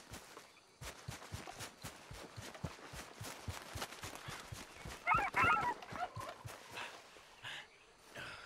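Chicken clucking in the video game Red Dead Redemption 2, a steady run of short rhythmic clucks over game ambience, with a louder burst of squawking partway through.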